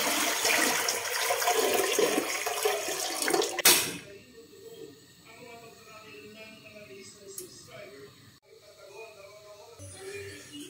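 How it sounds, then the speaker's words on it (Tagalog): A loud rush of water pouring into a metal pot holding wine bottles fills the first few seconds, then cuts off, leaving quieter trickling and faint background sounds. "Lalagyan din po natin ng tubig yan."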